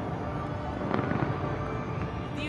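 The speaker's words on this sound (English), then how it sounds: "Beautiful fireworks." New Year fireworks burst over the Burj Khalifa in Dubai in a dense, continuous crackle and rumble. Sharp pops and bangs stand out from a steady roar of explosions, with no speech.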